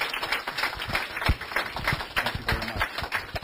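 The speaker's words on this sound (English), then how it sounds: "A big round of applause for David Silverman" Audience applause after a talk on politics and atheists by David Silverman, close, dense clapping from a room of about eighty people that holds steady throughout with no voices over it.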